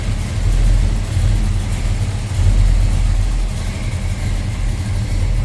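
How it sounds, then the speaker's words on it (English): 1967 Chevrolet Bel Air with a 350 engine idling nearby, a loud, steady low rumble that swells slightly now and then, with no one talking. "A little rumble out of that 350."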